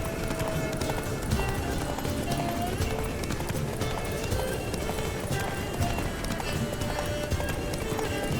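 A horse gallops in The Witcher 3 video game, its hooves clip-clopping in a fast, steady rhythm, loud and close over a busy game soundscape.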